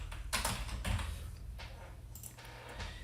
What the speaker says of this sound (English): I'm going to type in total paid.